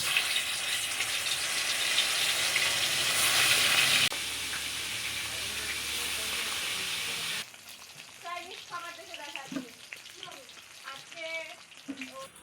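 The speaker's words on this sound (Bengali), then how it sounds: "কড়াইয়ে তেল দিয়ে দিয়েছি, তো গরম হয়ে গেছে। এবার আমরা মাছটা ছেড়ে দেবো" Pangas fish slid into hot oil in a kadai, a loud dense sizzle for several seconds that eases into a softer, crackling fry with scattered pops.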